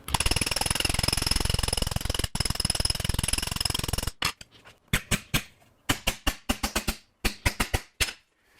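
A hammer strikes sheet metal to stretch it over a hammer form, first as a rapid, continuous machine-like pounding, then as separate loud blows in uneven bursts, close up with no talk.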